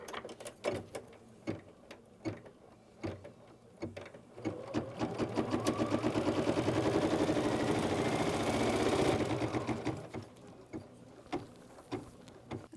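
Embroidery machine stitching a quilt block held in the hoop, a Winter Snowflakes quick-quilting design: short bursts of needle hammering at first, then a steady loud run of rapid stitching that stops abruptly, followed by a few more clicks.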